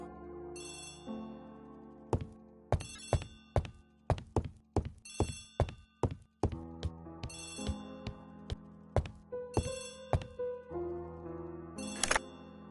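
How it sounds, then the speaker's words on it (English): A telephone rings in a detective drama scene, its bell-like tones mixed with sharp knocks and thuds across several seconds, fairly prominent with no talk over it. "Poirot, the telephone."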